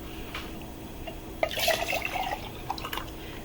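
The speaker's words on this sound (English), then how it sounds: "We'll put 1 cup of water into the glass" Water poured into a glass for an egg experiment: a short trickling pour and splash starting mid-clip, with a few drips and gurgles after, close and fairly quiet against a faint background hum.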